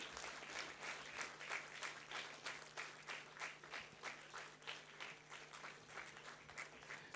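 Sustained audience applause at a university convocation ceremony, steady overlapping clapping from a large crowd with a rhythmic pulse, moderately distant and continuous throughout.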